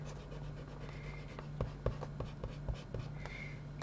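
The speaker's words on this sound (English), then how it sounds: "just very carefully rub out those pencil lines" Eraser rubbing out pencil lines on a paper photo frame page, faint scratchy strokes in a quiet room with a few soft taps and brushing scuffs.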